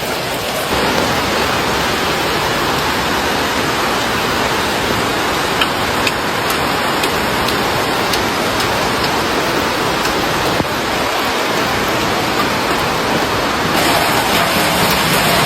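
Heavy rain pours down steadily in Mayotte after Cyclone Chido, a dense unbroken hiss that stays loud and close throughout, with no voices.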